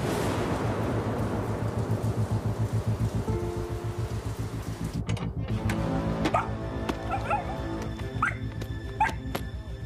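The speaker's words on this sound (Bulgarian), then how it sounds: "не спира да лае" A dog barks steadily and repeatedly indoors, heard at moderate distance under rain-like background noise, with sharper separate barks toward the end.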